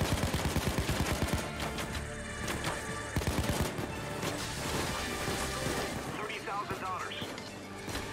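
A rapid burst of gunfire rattles off in the heist shooter PayDay 2 during a mall-wrecking job, then gives way to a dense, busy din of combat noise that continues throughout.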